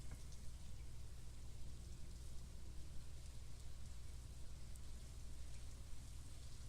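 Steady rain in Stardew Valley hissing evenly throughout, with a low rumble underneath and no distinct drops or voices standing out.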